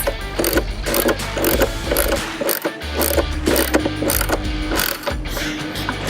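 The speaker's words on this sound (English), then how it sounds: "Now we're going to install the adapters onto the particle separator assembly using the provided hardware. Don't forget to tighten all the lock nuts." A ratchet wrench tightening lock nuts on particle separator adapters for a Yamaha YXZ1000R, fast repeated clicking strokes close up with brief pauses between them.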